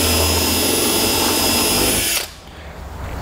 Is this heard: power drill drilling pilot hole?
yes